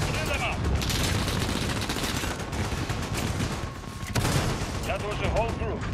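Dense, continuous gunfire and explosions fill a Call of Duty Modern Warfare match using the An-94 rifle, loud and rapid throughout, with in-game voices over the shooting.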